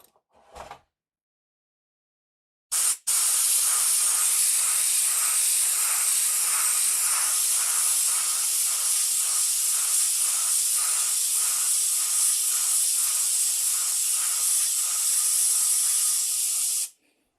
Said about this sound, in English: I do have a compressor here.